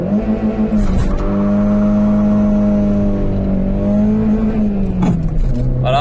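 A Citroën Xsara accelerates hard with its wheels spinning, the engine's loud, close drone rising and holding steady, then dropping briefly on a gear change before pulling again.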